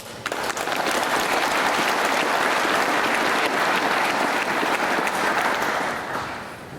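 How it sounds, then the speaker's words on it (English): Loud, dense applause from a large crowd at a corporate awards night for the RC Manubhai Group, rising quickly, holding steady for several seconds, then tapering off. "give yourselves a big round of applause"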